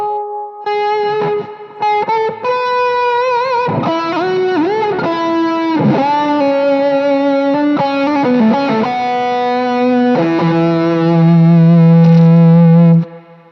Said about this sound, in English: And if you want to have a wah sound